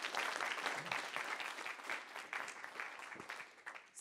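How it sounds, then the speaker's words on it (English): An audience at a university program event gives a speaker a round of applause, a dense, sustained clapping that gradually thins and softens toward the end. "can we give our presenter a round of applause?"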